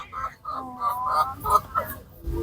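Chickens cluck and squawk nearby in a few short bursts over about two seconds, with a low voice in the background.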